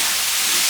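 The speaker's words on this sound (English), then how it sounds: "Let's stir fry this." Mincemeat stir-fried with jalapenos and chilies in a hot pan gives a loud, steady sizzling hiss lasting under a second, close up and without talk.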